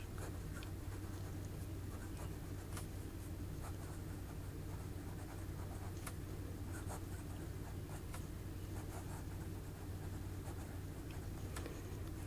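A Leonardo Momento Zero Grande Pura fountain pen scratches softly across 100 GSM paper in quick, irregular strokes and taps, faint and close against a low steady background hum.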